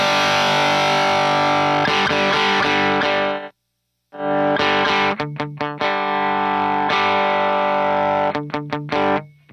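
An electric guitar plays through a Benson Preamp pedal set to less drive, giving a full, mildly overdriven tone: sustained chords, a brief silent pause, then rhythmic strummed stabs and ringing chords.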